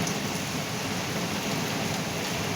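Heavy rain pours down hard in a dense, constant hiss and patter, loud and unbroken across the whole stretch, with no voices heard.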